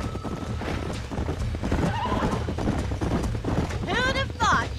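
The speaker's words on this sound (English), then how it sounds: "These are fine horses." Horses in the Red Dead Redemption western game whinny and neigh near at hand over the steady clip-clop of hooves, with the sounds of the game's outdoor setting running underneath throughout.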